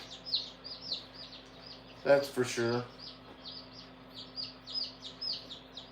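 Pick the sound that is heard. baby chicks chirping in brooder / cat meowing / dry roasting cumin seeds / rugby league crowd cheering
baby chicks chirping in brooder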